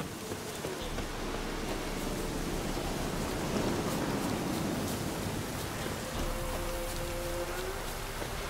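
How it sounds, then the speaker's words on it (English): Steady, dense rainfall in the open world of The Witcher 3, a continuous hiss of drops spread evenly across the whole stretch, moderately loud with no talking over it. "Looks like rain."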